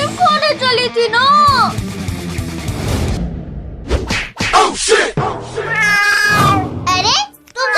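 Cats meowing loudly and insistently in a rowdy comedy scene, long rising and falling cries layered over each other, close and dominant, with shouting voices breaking in between.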